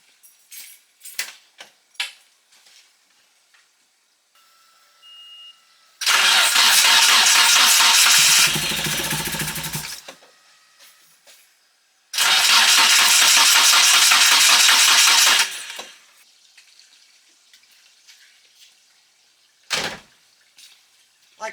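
A 1997 Nissan 240SX with a turbo KA24DE engine cranks without firing: two loud sustained bursts of starter churning, each several seconds long, set apart by quiet stretches with scattered clicks and small knocks.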